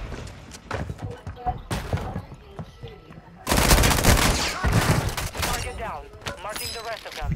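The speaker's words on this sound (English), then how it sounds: "You got squads from every angle shooting at us." Gunfire from several squads in the video game Call of Duty Warzone, rapid bursts and volleys that grow denser and louder midway, mixed with other game effects and voices talking over the action.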